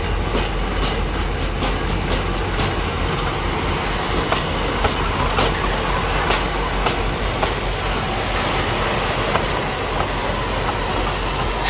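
Steady rumbling and clattering of a South African steam-era train at George station, where a CES 2080 locomotive works as station pilot, with continuous wheel noise and faint rhythmic clicks, no voices.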